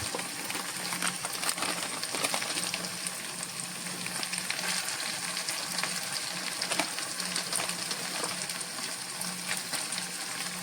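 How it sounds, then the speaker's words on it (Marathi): Onion-garlic masala sautés in a hot pan, giving a dense, continuous sizzle and crackle with faint stirring scrapes, steady and close throughout. "हा कांदा लसूण मसाला आपल्याला घालायचा आहे आणि तो देखील व्यवस्थित परतून घ्यायचा आहे"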